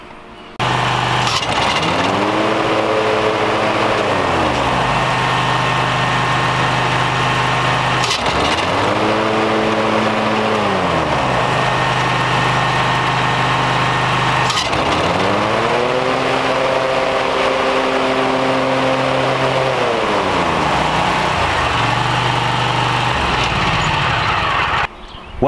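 A riding lawn mower engine runs loudly and continuously with its PTO blades engaged, the pitch repeatedly sagging and recovering in three long cycles as the blades load and unload, with sharp clicks at each transition.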